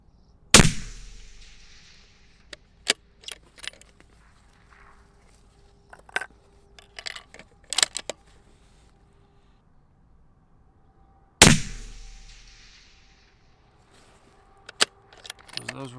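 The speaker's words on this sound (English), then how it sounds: "I'm gonna go ahead and end up shooting all these today" Two sharp, loud 6.5 SAUM rifle shots during load development, each with a long decaying echo, about eleven seconds apart, with lighter clicks and handling noises between them.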